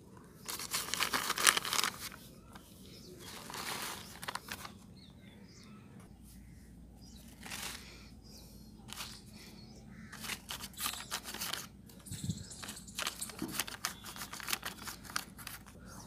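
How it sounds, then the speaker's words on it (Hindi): Garden soil mix is scooped and packed into polythene bags, giving faint crinkling, rustling plastic and soft scraping in irregular bursts over a quiet outdoor background with occasional birds. "मैं इस गार्डन सोल के मिक्सर को अच्छे से इस पॉलीथीन में अच्छे से भर लेता हूँ"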